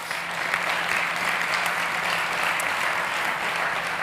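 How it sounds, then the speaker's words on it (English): Applause for the judges at the South Summit startup stage: a thick, even roar of clapping from a large crowd, loud and steady throughout with no talk. "So please, big applause to our judges."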